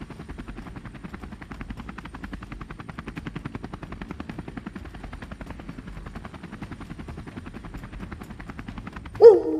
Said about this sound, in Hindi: फिर वहां से गुल्ली बुल्ली और सॉन हेलीकॉप्टर स्टार्ट करके वहां से भाग जाते हैं।